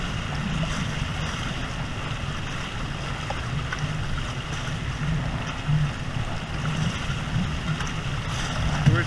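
A small trimaran under full sail with a small jib, heading almost directly into a northerly wind at about five knots in back bays; steady water rush and wind noise around the hull, continuous and fairly close.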